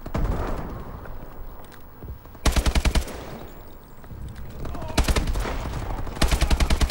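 Gunfire in Call of Duty Advanced Warfare multiplayer on the Solar map, several short automatic bursts of rapid shots, loud and close, separated by quieter stretches of ambient game sound.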